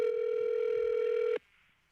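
A steady electronic telephone calling tone sounds loud and unbroken while a phone is being called, then cuts off abruptly, leaving a faint hiss.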